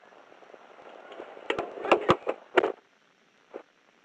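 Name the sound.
gunshots fired during police shooting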